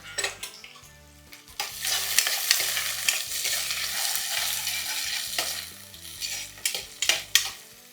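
Green chillies frying in oil in a pan for dosakaya pappu, a steady crackling sizzle broken by repeated scraping stirs and spoon clatter, rising in loudness toward the end, with no voices.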